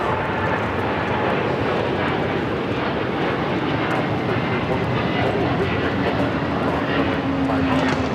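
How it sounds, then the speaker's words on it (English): A United Airlines Boeing 787-10 Dreamliner takes off from Los Angeles airport as a steady, broad jet-engine roar that holds throughout, with faint voices talking underneath. "That's United Airlines Flight 39 taking off to Tokyo Haneda on the 787-10 Dreamliner."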